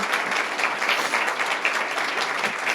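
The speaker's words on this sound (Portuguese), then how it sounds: "Aplaudam eles," Audience applause for graduates at a church leadership school graduation, dense continuous clapping from a crowd, steady and fairly loud throughout, with no voices standing out.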